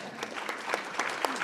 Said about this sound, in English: It's okay to applaud, yes.